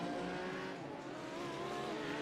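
GT race cars at Imola in the iRacing sim, heard as a continuous loud engine roar with a steady high-revving whine as a car comes through close by, alone without commentary over it.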